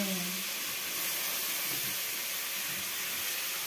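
Spice mixture with cauliflower and green beans frying in a pan gives a steady, close hiss and sizzle that holds level without a break.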